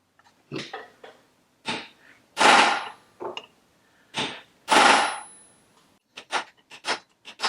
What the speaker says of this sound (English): If the rivet gets a little off on you, you could steer it by angling your driver.